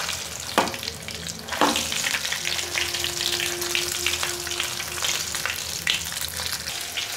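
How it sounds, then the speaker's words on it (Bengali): Chicken drumsticks deep frying in hot oil, a dense continuous bubbling sizzle with a couple of sharp clatters near the start, close and steady without speech. "এখন ডিপ ফ্রাই করবেন।"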